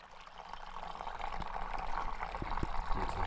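Filtered mountain water tipped from a screw-on filter bottle into another bottle on a Rakaposhi base camp hike, a steady close trickling pour that rises slightly, with a few soft knocks.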